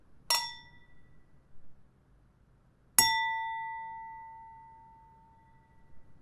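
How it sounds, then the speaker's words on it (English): Two glasses knock together twice, each a bright clink; the first dies away quickly, and the second rings out clean and long, fading over about three seconds in a quiet room. "like two glass knocking together"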